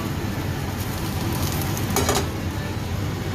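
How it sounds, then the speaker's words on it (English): Button mushrooms sautéing in hot oil in a pan for a Guinness stew give a steady, close frying sizzle, with a brief stir around the middle. "Hear the sizzle on the way there."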